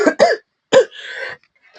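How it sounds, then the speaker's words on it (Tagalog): A man coughs twice in quick succession, then gives one more harsh cough followed by a raspy throat-clearing exhale, close and loud against silence. "Yan, inuubo ka tuloy."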